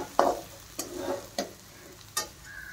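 Egg masala sautéing with black masala and red chili powder, a utensil scraping and stirring in distinct strokes about every half second over a soft steady sizzle, close and alone.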